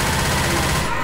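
Rapid gunfire from the zombie shooter Left 4 Dead 2, a dense continuous burst of loud shots filling the whole moment, heard in a dark level.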